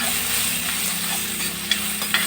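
Pork for a Thirukochi-style roast frying in a pan with salt and a pinch of turmeric, a steady close sizzle with a couple of faint stirring scrapes and clicks.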